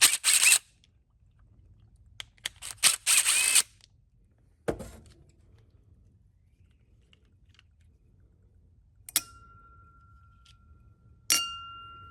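Metal parts clink and rattle as the carburetor bowl comes off a Craftsman M100 mower, with a few sharp taps, brief scraping, a couple of short squeaks and long quiet gaps between them, close and fairly loud at moments.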